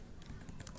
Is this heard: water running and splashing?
no